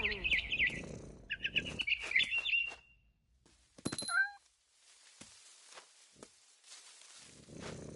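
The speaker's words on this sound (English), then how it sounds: "Then I heard chirping outside my window. It was a barn swallow going back to her nest." A barn swallow near a window gives bright, rapid chirping twitters in quick bursts over the first few seconds, followed by a few sharp higher calls and scattered faint clicks before it fades to quiet.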